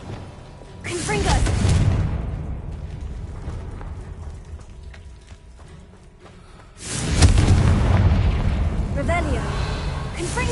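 Confringo fire spell blasts in Hogwarts Legacy gameplay, two heavy rumbling booms separated by a quieter stretch of game ambience, each burst roaring loudly before tailing off.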